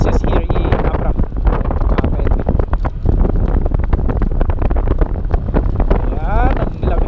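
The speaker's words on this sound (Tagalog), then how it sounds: "ang lamig ng hangin" Cold wind roars across the microphone during a motorcycle ride on a Honda ADV150 along open hill trails in Abra, loud and constant throughout, with a voice speaking under the buffeting.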